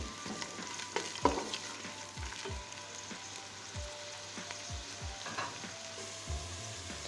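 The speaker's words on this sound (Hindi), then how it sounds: "अब हम इसमें प्याज शामिल करेंगे और इसको ब्राउन कर लेंगे।" Onions browning in hot ghee in a pan for aloo gosht: a continuous close sizzle and crackle, with scattered scraping taps of a stirring spoon and no talk.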